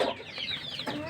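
A Rhode Island Red chick hurt by an incubator fan peeps in a few high, thin chirps, close and fairly loud over a short moment.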